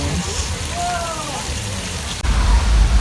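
Artificial rain pours down steadily on the Old Mexico flood set on the Universal Studios Hollywood tour, and a deep rumbling swell rises near the end. A guide's voice briefly sounds over the rain.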